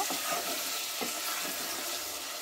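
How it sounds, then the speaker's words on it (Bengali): Pieces of desi country chicken are stir-fried with salt in hot oil, a dense close sizzle with brief stirring scrapes, loud and continuous without any talk. "লবণটা দিয়ে আবারও ভালো করে তেলের মধ্যে কষিয়ে নেব।"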